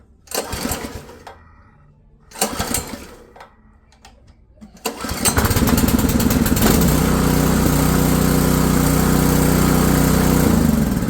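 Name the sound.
Westinghouse WPX3400 gas generator engine starting with recoil starter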